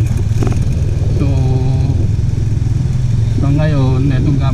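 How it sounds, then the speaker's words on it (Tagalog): A Honda GTR 150 motorcycle engine drones steadily while riding through Binondo, Manila, loud and continuous with shifting pitch, as someone talks over it. "itong gamit ko motor is yung Honda GTR 150"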